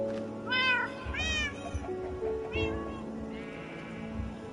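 A Minecraft cat, a black-and-white tuxedo, meows several times in a row, each call rising and falling, over a steady bed of low game background noise.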